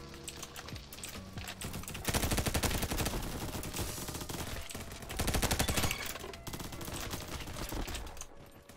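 Rapid automatic gunfire in the Bad Business video game, including an AK, in dense crackling bursts with short pauses, mixed with quick clicking like keyboard taps, loud and close throughout.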